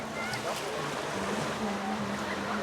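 Sea waves at Batiano Beach Resort in Tagnanan, Mabini, Davao de Oro, wash steadily in a continuous broadband roar, with wind buffeting the microphone and a low engine-like hum running beneath.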